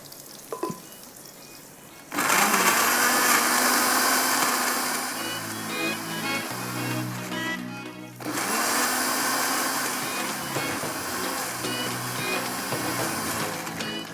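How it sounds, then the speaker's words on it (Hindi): Electric grinder whirring loudly as it grinds garam masala spices for a masoor pulao, starting abruptly after a quiet moment, with the motor pitch dipping partway through before it resumes steadily to the end. "और इसको मैं थोड़ा सा ग्राइंड कर लेती हूँ।"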